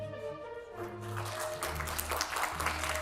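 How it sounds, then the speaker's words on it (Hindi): Loud applause from a political rally crowd fills the whole stretch as a dense, steady wash of clapping, with music or crowd tones running underneath. "थोड़ा जोरदार तालियों के साथ में"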